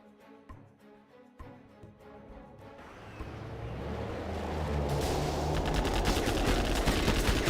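A Gatling unit in a real-time strategy video game opens up on missile defenders, a few sharp early shots building into a dense, continuous roar of rapid fire that grows louder toward the end.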